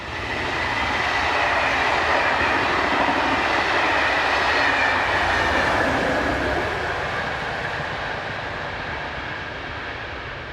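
Locomotive 26140 pushing from the rear of a morning passenger train from Nancy to Basel, a loud, steady rumble of rolling stock and engine that holds for several seconds and then slowly fades as it passes.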